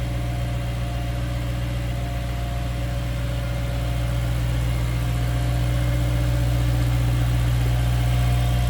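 A 2013 BMW M3 Lime Rock Edition's four-liter V8 idling, a smooth steady low rumble with a faint hum above it, close and even throughout, no talking.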